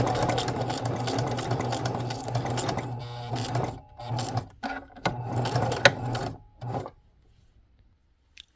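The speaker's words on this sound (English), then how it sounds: "we will sew all the way around it" A sewing machine stitches around the edge of a craft piece, its motor whirring steadily up close and then breaking into shorter start-stop bursts before falling silent near the end.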